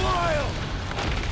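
Rocket's attack in the Guardians of the Galaxy video game sets off a deep explosion boom with a rumbling tail, mixed with a falling tonal effect and a voice speaking at the start.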